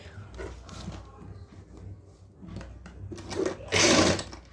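A sewing machine runs in short bursts stitching a frill onto a fabric strip for a trouser hem, its rapid clatter starting and stopping, loudest in a final close run.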